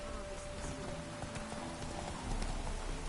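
The horse Roach's hooves clop steadily in a video game, a soft rhythmic walk mixed into a busy background of ambient noise, with a voice briefly heard.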